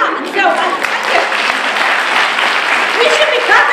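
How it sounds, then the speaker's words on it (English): Conference audience applauding at a WOW 2012 event, a loud, sustained wash of clapping from a large crowd with some voices mixed in. "you should be clapping yourselves"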